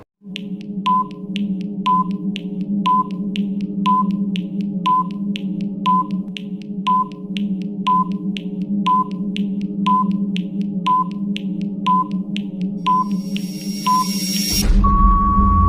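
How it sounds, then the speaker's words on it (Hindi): A quiz countdown timer ticks once per second, each beep sharp and steady, over a constant electronic hum, and ends in a long tone as the time runs out. "स्टार्ट होता है टाइमर"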